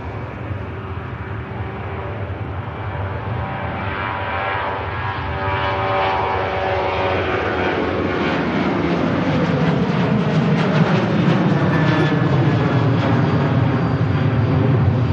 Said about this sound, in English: Ryanair out to Milan